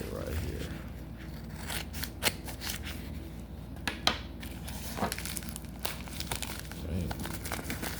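Scissors snip open a plastic mystery package of trading cards, with crisp cuts, rustling and crinkling wrapping, and scattered sharp clicks from close by.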